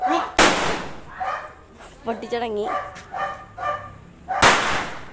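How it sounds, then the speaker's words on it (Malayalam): Two sharp, loud firecracker bangs on Vishu night, one near the start and one near the end, with voices talking in between. "അപ്പോൾ നമ്മൾ പടക്കം പൊട്ടിക്കാനാണ്"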